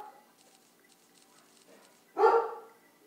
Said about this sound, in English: My dog's barking. I think you hear that.